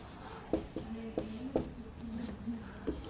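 Chalk taps and scrapes across a classroom board in several short strokes and clicks, close and moderately loud, while a voice hums faintly in the background.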